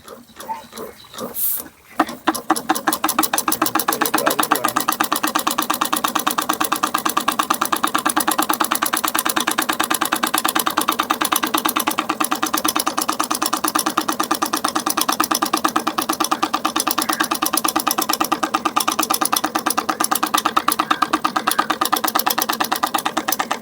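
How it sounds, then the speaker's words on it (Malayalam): A handmade hot-air Stirling engine runs after its flywheel is turned by hand, settling into a fast, even mechanical chatter of rapid clicks that stays loud and close for over twenty seconds after a brief startup. "അപ്പോൾ നമുക്ക് സ്റ്റാർട്ട് ചെയ്യാം അപ്പോൾ ഞാൻ ഫ്ലൈ വീലം തിരിച്ചു കൊടുക്കുകയാണ്"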